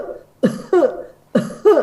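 A tuberculosis patient coughs in two paired bursts, each a harsh cough followed quickly by a second, close and loud with short pauses between.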